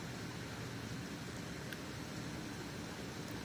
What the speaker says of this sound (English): It's rain, not dirt.